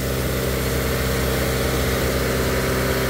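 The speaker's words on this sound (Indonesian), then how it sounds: "Gas mesin saya nyalain RPM di 2000" Mazda CX-5 2014 engine held at a steady 2000 RPM with the throttle propped open, a continuous loud hum and drone throughout, no voices.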